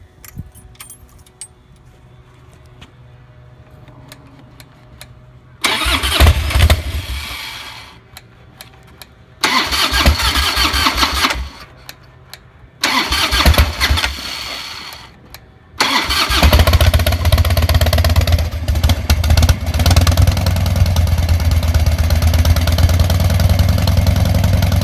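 A Harley-Davidson FXDL motorcycle with a new BikeMaster MS12-20L-BS battery is cranked several times in loud, close bursts with short pauses between. The engine then catches and settles into a steady rumbling idle, with keys jangling at the start.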